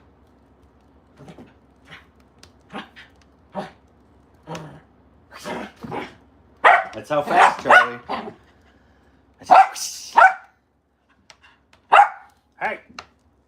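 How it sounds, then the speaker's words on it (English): A dog barks indoors in short, sharp bursts, scattered irregularly and growing louder and more clustered, while someone talks between and over the barks. "Hey, stop barking."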